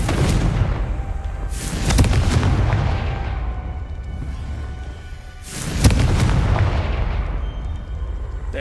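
A Confringo spell from Hogwarts Legacy detonates in two loud, booming blasts, each a sharp crack followed by a rumbling, fading roar, with no talking.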